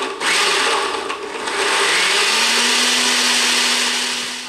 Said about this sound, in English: And now what I'm going to do is I'm going to blend all of these ingredients together.